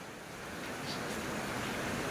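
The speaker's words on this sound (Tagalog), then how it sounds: "Pagka bumuhos yung ulan sa bubong eh, sobrang lakas. Tapos yung hangin, biglang hampas sa yero namin." Strong typhoon wind and heavy rain lash a tin roof in a dense, continuous roaring rush that swells slightly as it goes, with no voices.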